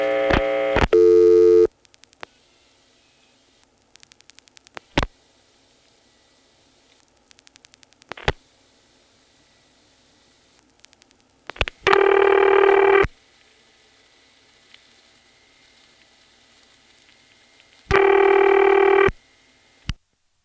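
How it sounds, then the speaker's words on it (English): A 1977 recording of a telephone test board code being dialed directly at the Occoquan switch in Prince William County, Virginia, with short bursts of loud tones separated by clicks, faint relay chatter and near silence. "The only recording I have of calling that is from 1977, and I'm dialing it directly"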